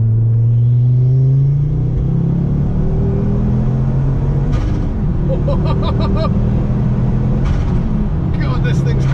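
Ford Focus RS mk2 pulling hard in third gear from a rolling 30 mph, a loud steady engine drone rising in pitch throughout, heard from inside the cabin with a voice speaking over it.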